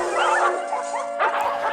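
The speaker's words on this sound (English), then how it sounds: "All it took was for one doggo to start barking" Several dogs bark and yip continuously in the horror video game Dayshift at Freddy's, a close, dense chorus of overlapping barks with whimpering tones.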